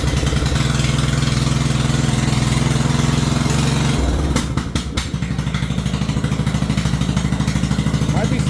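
Engine of a Bolens riding lawn mower with a 38-inch deck running steadily nearby, loud and continuous, with a brief clattering stumble midway before it settles back into its chugging idle.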